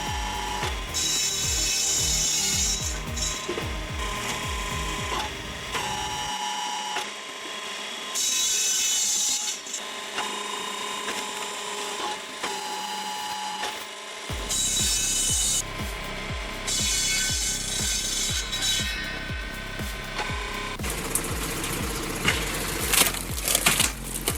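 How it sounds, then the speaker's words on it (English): A loud, harsh mechanical grinding and rasping of a circular saw on a firewood processor chewing through logs, repeating in long cycles with brief quieter pauses between cuts. "That circular saw cuts each log to the same size with almost no wasted motion."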